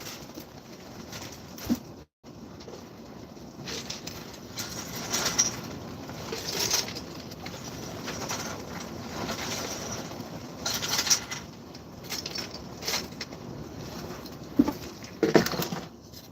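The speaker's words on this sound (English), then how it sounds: "that's heavy rain" Heavy rain falls as a steady broadband roar with patter, continuous and fairly close, swelling slightly at times over about sixteen seconds.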